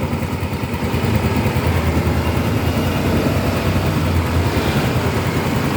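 A motorcycle engine idles with a freshly replaced exhaust part, giving a steady, close, fairly loud putter that runs evenly throughout with no talking.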